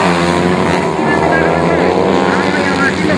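Four-stroke class racing motorcycles at the start of a final at Shiraito Speedland in 2013, a dense loud roar of many revving engines with a public-address announcer speaking over it.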